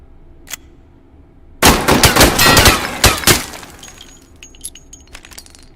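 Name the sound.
gunshots from a Lancaster gun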